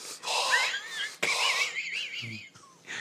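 A man breathes heavily and raspily into a podcast microphone, imitating the menacing breath of Michael Myers from Halloween; wheezy, close inhales and exhales with faint whistling tones and short pauses.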